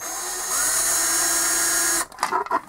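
A high-pitched power drill whines steadily for about two seconds while drilling a hole in a case, then stops, followed by a few short clicks and scraping noises.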